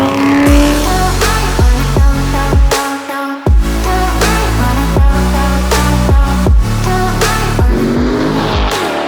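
A car engine revving hard through repeated gear changes, each rising whine dropping sharply at the shift, loud and close with a brief cut in the middle and no talk.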